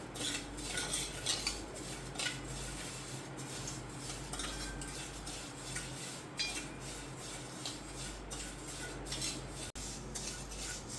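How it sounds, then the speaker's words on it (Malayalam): Vermicelli being stirred in hot ghee, with a spoon steadily scraping and clinking against the pan over a soft background sizzle. The sound is faint and continuous, and no one speaks. "ചൂടായ നെയ്യിലേക്ക് സേമിയ ഇട്ട് കൊടുത്തിട്ട് കരിയാതിരിക്കാൻ ഒന്ന് ഇടയ്ക്കിടയ്ക്ക് ഇളക്കി കൊടുക്കണേ."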